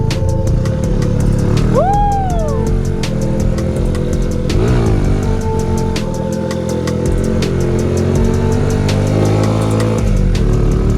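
A motorcycle engine sputters and runs roughly, loud and close, with uneven popping and ticking over a continuous rumble, a brief rising whine and wavering pitch.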